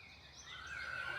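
A horse whinnies in a comedic Viking horse-riding scene, a rising, drawn-out call that swells over about a second, heard close and fairly loud with no talking.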